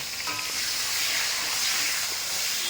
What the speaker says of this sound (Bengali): এবার পেঁয়াজগুলোকে আমি হালকাভাবে একটু ভেজে নেব।